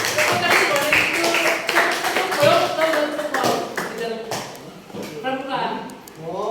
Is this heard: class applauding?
yes